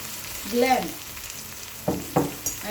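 A blended mix hits a hot pan of frying onions and sizzles, followed by a few sharp scraping stirs against the pan.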